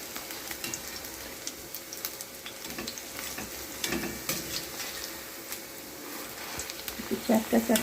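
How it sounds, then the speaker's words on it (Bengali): Onion fritters (piyaji) sizzle steadily in hot oil in a pan, a dense continuous crackle and hiss with occasional stirring noises and brief louder spatters near the end. "একটু লাল লাল লাল করে ভাজতে হবে"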